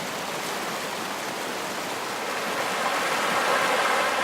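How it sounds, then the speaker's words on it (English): Rushing stream, a steady broadband wash of flowing water, close and loud, growing a little stronger toward the end with no other sounds. "the sound of a rushing stream"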